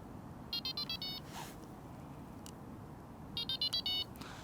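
Bite alarm buzzers on a winter carp fishing rig beep in two short bursts of rapid tones, fairly faint over steady outdoor background noise.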